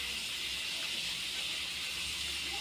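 Potato snacks frying in oil at medium heat, a steady, dense hiss of bubbling oil that holds even throughout, close and unbroken, with no voices.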